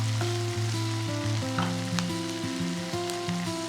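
Vegetables seasoned with salt fry in a pan while being mixed, a steady close sizzle running throughout, with no voices and a low tonal hum beneath.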